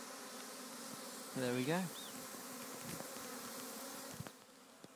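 Honey bee swarm moving into a hive, a continuous soft buzzing hum from many bees close by, with someone speaking briefly over it.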